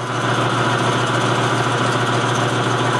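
A metal lathe running steadily on a Honda PA50 moped part, a constant close mechanical hum with a whirring tone that holds even and unbroken throughout.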